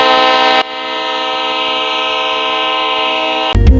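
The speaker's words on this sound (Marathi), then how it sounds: "दुसरी ट्रेन येत आहे, त्याची वाट बघत आहे" A train pulling into Ayodhya Dham railway station sounds a long, loud, sustained horn blast that holds steady for about three seconds, close by, before cutting off into a rumbling clatter.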